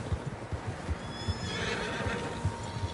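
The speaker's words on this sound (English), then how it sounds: "Horses, quite a few of them." Horses in the video game Red Dead Redemption 2 whinny with a rising, drawn-out neigh over rhythmic hoof clip-clops, moderately close against quiet open-air ambience.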